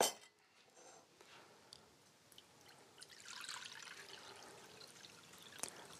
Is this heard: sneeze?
no